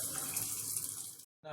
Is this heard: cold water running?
yes